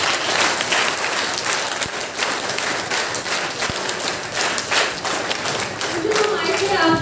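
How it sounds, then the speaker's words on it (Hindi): An audience at a school workshop applauds a grade 5 girl who danced, with dense sustained clapping throughout and light crowd noise mixed in. "सभी इस बच्चे के लिए ताली बजाएं।"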